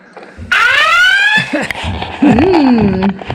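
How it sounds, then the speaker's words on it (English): A loud electronic alarm tone from a dog training collar rises in a sweeping chirp and holds, followed by bursts of rising and falling beeps and a brief squeak, up close. "Got alarm sound."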